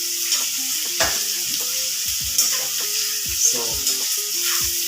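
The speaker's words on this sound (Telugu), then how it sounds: "ఇవన్నీ కలిసి ఒకసారి బాగా ఫ్రై చేసుకోండి." Onions, ginger and garlic stir-frying in a pan, a steady sizzle with a series of scraping stirs and clinks of the utensil against the pan, close and fairly loud, with one brief spoken word.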